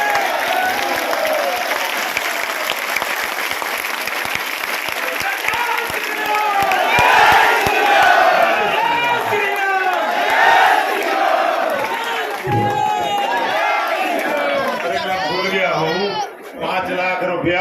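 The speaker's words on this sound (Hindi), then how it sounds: "तालियां बजाओ" A large crowd at a Lav Kush Jayanti public gathering in Banpur claps and cheers, sustained applause mixed with shouts and chanting voices swelling in waves, loud and dense.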